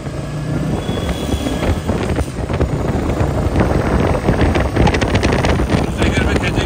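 A Royal Enfield Meteor 350 motorcycle rides along in second gear, its steady engine drone mixed with heavy wind buffeting across the microphone, loud and continuous throughout.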